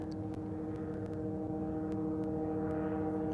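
A tiny propeller-driven model airplane drones overhead with a steady, buzzing engine tone and strong harmonic hum, continuous and fairly faint over an outdoor setting near water.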